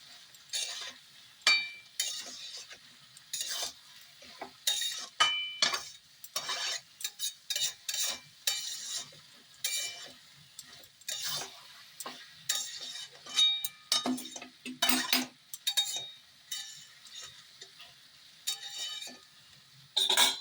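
A spoon scrapes and clinks against a pan as a dry poppy seed paste with potato and soybean is stirred. Rapid, irregular scraping bursts come close and clear over a faint sizzle, with no talk.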